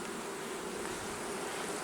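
Honeybees buzzing at the entrance of a backyard hive in early fall, a dense, continuous drone of many insects close by, steady in loudness throughout with no voices.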